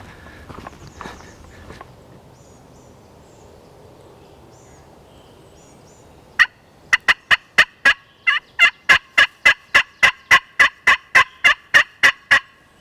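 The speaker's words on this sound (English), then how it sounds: "try and strike a gobble" A wild turkey gobbles outdoors, followed by a long, regular run of sharp, loud rhythmic clucks or calls repeating about twice a second after a quiet stretch of faint background.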